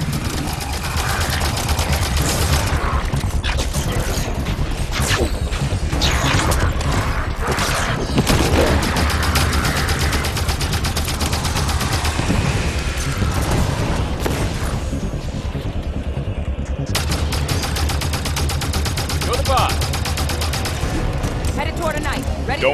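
Gunfire fills a battle in the video game Halo 5: Guardians, dense bursts of shots and booms running without a break under music and voices talking.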